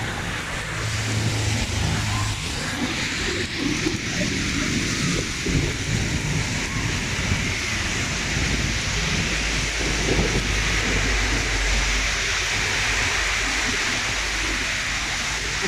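Heavy rain in Saudi Arabia pours steadily and loudly throughout, a dense rushing hiss with low rumbles underneath, no voices.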